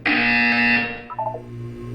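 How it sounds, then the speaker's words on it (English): A harsh electronic buzzer from the Portal 2 video game blares steadily for under a second, then cuts off, followed by a few soft electronic blips. "You will hear a buzzer."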